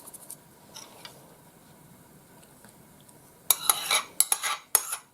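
Dough ingredients being stirred in a bowl for a yeast dough in a village kitchen: quiet low shuffling at first, then a loud burst of scraping, clinking spoon-against-bowl strokes in quick irregular bursts.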